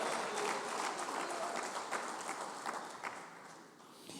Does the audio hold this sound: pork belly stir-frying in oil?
no